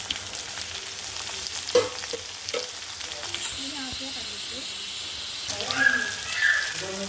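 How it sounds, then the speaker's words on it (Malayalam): Shallots, onion and curry leaves sautéing in a pan for a tripe roast, with a continuous bright sizzle and hiss, occasional stirring knocks, and the frying swelling louder midway. "കറിവേപ്പിൻ്റെ ഇല എല്ലാം കൂടി ഒന്ന് നല്ലോണം വഴറ്റി കൊടുക്കും"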